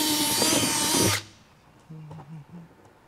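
Power drill boring a hole through a 2022 Jeep Wrangler Unlimited during a base plate install, a loud whining, grinding run for about a second that cuts off, followed by faint clatter and a voice.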